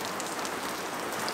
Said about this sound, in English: Really heavy downpour.